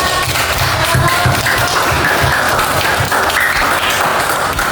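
Students in an Islamic primary-school classroom in Gorontalo clap after a group presentation during a teaching practice lesson. The patter is brisk and continuous, with some heavier desk-like thumps mixed in, and no one speaks.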